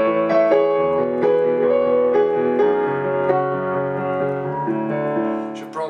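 Solo piano playing a song, with steady broken chords under a melody, close and moderately loud, fading at the end.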